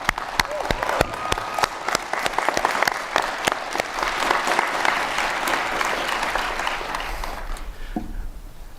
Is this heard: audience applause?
yes